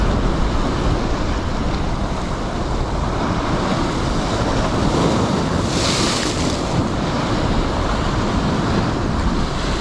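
Heavy sea swell surging against a rocky coastline, a constant roar of waves and turbulent water with wind buffeting the microphone, one brighter wash of surf in the middle.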